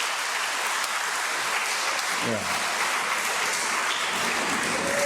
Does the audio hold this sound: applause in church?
yes